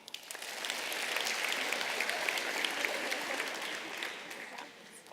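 An audience claps steadily for students receiving Science Olympiad awards, a moderate wash of applause that swells, holds and tapers off near the end.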